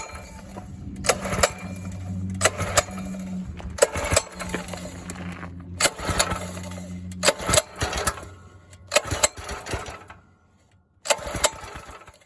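A 1970 Sears 10XL garden tractor engine runs steadily with a low hum and a sustained tonal drone, with sharp metallic clacks and bursts at intervals. It fades briefly near the end, then returns.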